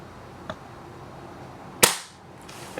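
An Echo1 ASR airsoft sniper rifle dry-firing with no BBs left gives one sharp, loud snap near the middle, with a fainter tick before it and another burst of noise at the end.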